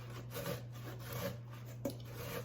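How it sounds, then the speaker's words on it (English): A tomato is rubbed cut side down against a grater into a bowl, giving faint, close, rhythmic rasping strokes over a low steady hum, with no talk. "we're going to take the tomato, cut side against the grater, and we're just going to grate"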